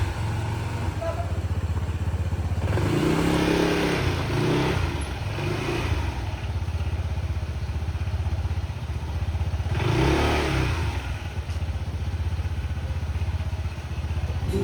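A motorcycle engine runs nearby in a crowded parking area, a continuous low rumble and idle with two swells of louder revving or passing traffic, with voices talking over it.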